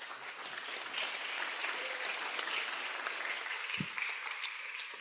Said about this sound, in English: I think it's time for a warm applause for all the speakers.